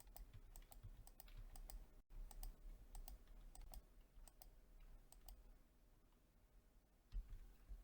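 Computer keyboard keys clatter in small clusters of quick, faint clicks with pauses between, close and quiet with no talk, as keys are pressed to play a Minecraft-style block game.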